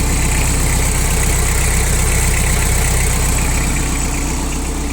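A Mitsubishi MT367 diesel tractor engine idling steadily and loudly up close, a constant low rumble and chug with no change in pace.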